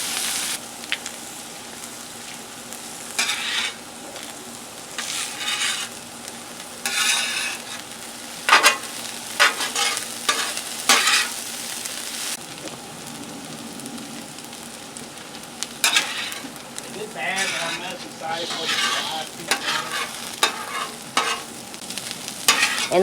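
Corn, tomatoes and other vegetables fry on a Blackstone griddle, with a steady close sizzle broken by repeated scraping and stirring strokes of a spatula across the hot flat top, no talking.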